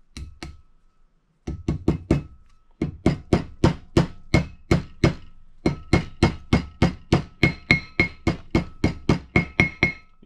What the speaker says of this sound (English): Now they actually have a seal driving tool, but I always find a hammer works.